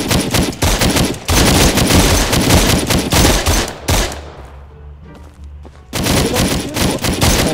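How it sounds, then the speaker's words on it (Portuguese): Rapid bursts of gunfire in the FiveM roleplay game crackle loudly and repeatedly, pausing briefly in the middle before another dense volley erupts. "Alguém tá dando tiro aí."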